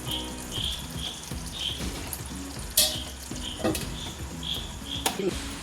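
Chicken cooking in a covered pan gives a continuous close sizzle and bubbling, broken by occasional sharp clinks, while a repeating chirpy tone and faint background sounds run underneath.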